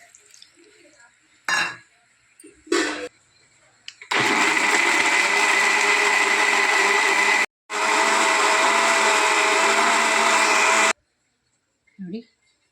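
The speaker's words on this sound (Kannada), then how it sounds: "ಇವಾಗ ಎಲ್ಲ ಮಿಕ್ಸಿಗೆ ಹಾಕುವ." Kitchen mixer grinder blending a Kundapura-style clam curry masala paste with a little water: two short loud whirring bursts of several seconds each, preceded by a few clinks and handling knocks, close by.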